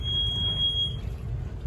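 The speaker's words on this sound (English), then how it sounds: "Gives a bit of a beep, so it's all ready." A steady high-pitched electronic beep from the port motor controller of a Seawind 1260 hybrid electric catamaran sounds for about a second, then cuts off, leaving a low hum of the boat and its surroundings.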